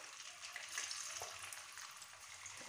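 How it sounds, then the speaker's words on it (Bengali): Cornflour-coated chicken pieces for chicken Manchurian frying in hot oil make a faint, steady sizzle with soft crackles, ending in a slightly louder burst. Nobody speaks. "তারপর ওর মধ্যে সামান্য কর্নফ্লাওয়ার দিয়ে ভালো করে মাখিয়ে এবারে ভেজে নেব।"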